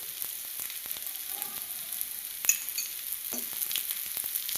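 Masala akki roti, a spiced rice-flour flatbread, cooks in a little oil on a pan over low to medium flame, giving a steady soft sizzle with scattered small crackles and a few brief scraping clicks, close up and with no talk.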